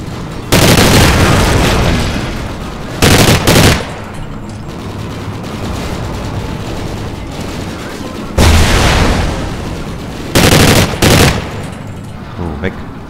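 Explosions and gunfire in the video game Call of Duty Ghosts: loud booming blasts and bursts of automatic fire come in clustered waves over a continuous rumble of battle.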